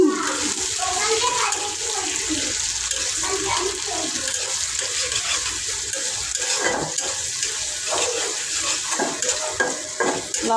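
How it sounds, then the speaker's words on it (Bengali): Spices temper in hot oil for dal with dried red chillies, a steady frying hiss with crackles and stirring clatter throughout, a faint voice occasionally under it. "ফোড়ন দেওয়া হচ্ছে।"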